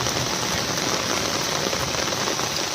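Heavy rain pours down hard and continuously, a dense close roar of drops drumming on surfaces with no pauses and no voices.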